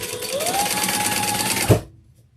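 A sewing machine runs a fast, steady whirring stitch across the top of a handbag, close and loud, then stops abruptly with a soft thump and falls silent.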